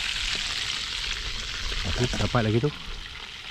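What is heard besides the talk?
fish frying in a pan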